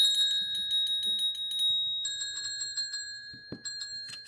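Bicycle bell rung rapidly over and over, a bright metallic trill that pauses briefly and resumes, close and clear with a soft thud near the end.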